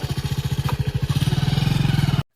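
A motorcycle engine runs close by in a steady, rapid putter of evenly pulsing beats, loud and continuous, rising slightly as it revs before cutting off abruptly.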